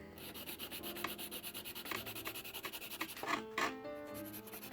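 A nail file rasps back and forth across acrylic nail tips being reshaped, a steady run of close, quiet rubbing strokes with a rhythmic pulse throughout.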